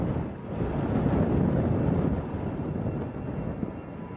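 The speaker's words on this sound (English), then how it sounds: "Next one on the roll, I think this is the EasyJet." EasyJet airliner bound for Venice on its takeoff roll at Manchester Airport, a broad steady engine roar heard from a distance with wind buffeting the microphone, rumbling throughout without voices.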